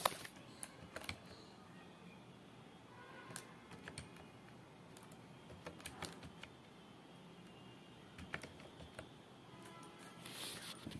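Steady clicking of keys on a computer keyboard as a passenger's mobile number is entered for a train ticket booking, quiet and close, with irregular bursts of keystrokes and no talking.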